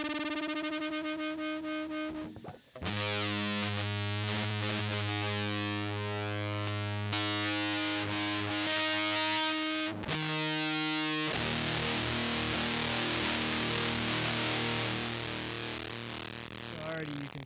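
An electric guitar runs through a choked-out distortion effect for a busted, radio-like tone, with a harmonic chime, then loud sustained fuzzy chords and buzzing notes.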